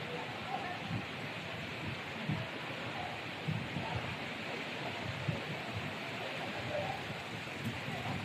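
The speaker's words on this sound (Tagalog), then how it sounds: "Lakas ng ulan." Dense, steady typhoon-like downpour of rain hissing continuously, with occasional heavier thuds and patters close by, outside the arrival area at Macau International Airport.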